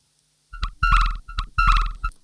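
Short bursts of a wobbling, gurgling synth lead whose LFO-modulated filter cutoff sweeps up and down, giving a bubbly, dolphin-like warble in a few phrases.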